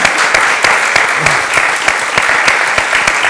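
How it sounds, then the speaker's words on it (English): Audience applause at a panel discussion on storytelling and Latino representation, loud and close, a steady dense clatter of clapping with a few sharper individual claps standing out throughout. "And I think we should just applaud him for that."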